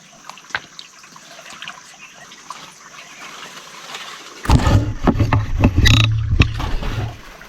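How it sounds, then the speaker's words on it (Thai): A stream alongside a garden trickles faintly at first, then roars up loud and close halfway through as water gushes and splashes, with no voices. "ใส่ลำธารนี่เนาะ"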